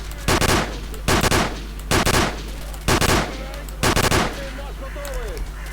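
Gunfire in the video game S.T.A.L.K.E.R. during a night assault on Pripyat, five loud bursts of automatic fire at roughly one-second intervals, each a short rattling volley, close and punchy.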